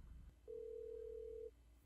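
A single steady telephone ringback tone sounds for about one second during a phone call, a clean sustained hum over a quiet background with no talk.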